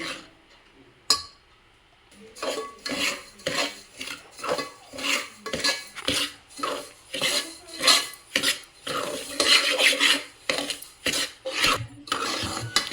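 Semolina roasting in a little oil in a pan for enne holige, a spoon scraping and stirring in repeated loud rasping strokes, close and continuous with brief pauses.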